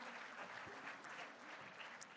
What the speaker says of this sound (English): Let's welcome them with a round of applause.